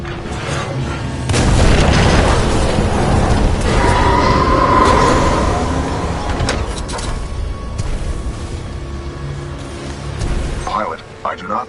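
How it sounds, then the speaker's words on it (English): Heavy booming explosions from Titanfall 2 roll out loud and dense in the first half, then fade into a rumbling, crackling aftermath, with game voices talking over parts of it. "a series of explosions just weakened the manipulator arm"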